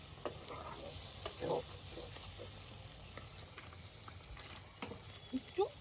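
Capsicum chicken being stirred in a pan, with soft, faint scrapes and occasional wet sizzling pops at a low, steady level.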